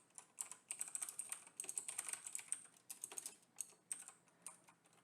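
Typing on a computer keyboard while writing QBasic code: quick, close clicky keystrokes in uneven bursts with short pauses, fairly quiet and with no voice over them.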